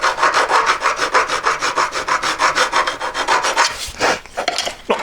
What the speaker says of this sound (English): needed a little bit more filing on the inside